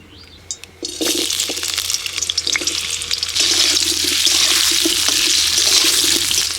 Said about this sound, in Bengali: কড়াই আমি আবারও বসিয়ে নিলাম এবার আলু ভেজে নেব